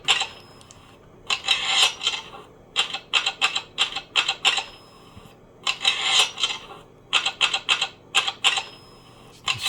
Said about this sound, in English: Slowest hunt and peck typewriter ever.